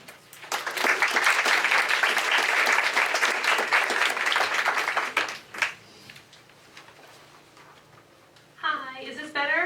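An audience bursts into sustained applause to welcome a speaker at a career talk, dense clapping filling the room for several seconds before tapering off, then a voice begins speaking near the mic.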